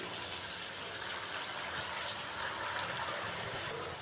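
Water poured from a glass into a pot of spiced, roasted chana dal, a steady gushing, splashing hiss at low level, continuous for a few seconds with no talk.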